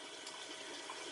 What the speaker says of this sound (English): I'll stop draining and start refilling, or I may even start refilling now